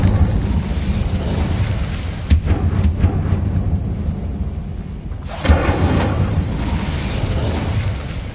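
An Incendio fire spell in Hogwarts Legacy bursts with a loud whooshing roar of flame around the five-second mark, set against a continuous rumbling, crackling game backdrop with earlier sharp impacts and no talk.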